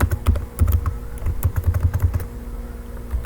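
Someone types on a computer keyboard, entering an HTML H1 tag, with quick clusters of close, crisp key clicks that thin out toward the end.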